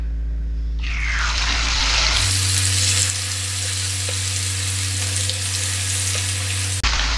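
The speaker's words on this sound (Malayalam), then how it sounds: "നമുക്കിത് അയില വറുത്തെടുക്കുക." Mackerel slices dropped into hot oil in a pan for fish biryani: a sudden loud sizzle that swells into steady, crackling frying, close by, with no voices.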